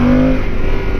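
A Yamaha Super Tenere motorcycle engine roars up close in a brief revving burst, with a steady low rumble and a tone shifting upward.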